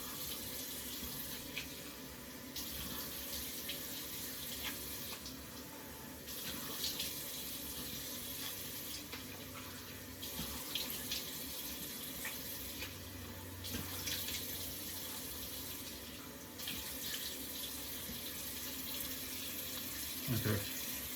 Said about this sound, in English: I'm just gonna wash my face with warm water